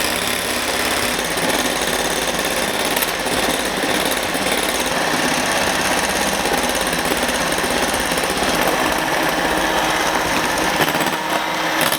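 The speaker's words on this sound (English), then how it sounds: "I'm gonna not talk during this because the sound of the mixer is really annoying." An electric stand mixer whipping French meringue gives a steady, loud, dense whirring drone that holds unchanged for the whole stretch, with no one speaking over it.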